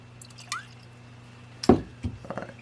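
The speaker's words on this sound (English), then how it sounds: "this is a big boy, so we're going to add a little water." Water added to Stellum bourbon whiskey: a few brief, close drips and splashes, one sharp plop near the middle followed by a quick cluster of smaller drops, in a quiet room with no talking.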